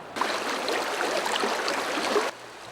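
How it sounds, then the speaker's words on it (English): Creek water flows steadily past restored riparian vegetation in the Owens Valley, a soft, continuous broadband rush heard alone for about two seconds, moderately close and fairly faint. "there's excellent water coming through here"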